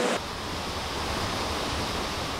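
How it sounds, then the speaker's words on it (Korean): Bidulginang Falls in Pocheon pours steadily, giving a continuous broadband rush of falling water, even and unbroken, heard alone with no talk. "가까이에 이렇게 예쁘고 아름다운 폭포가 있다는 게"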